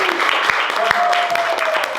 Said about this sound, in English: So right, give Riley and Mackenzie a round of applause.